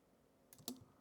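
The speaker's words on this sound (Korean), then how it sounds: "이거 Alt키 눌러서 복제" A single computer keyboard key press, the Alt key, heard as a quiet click with a second faint tap after it in a hushed room.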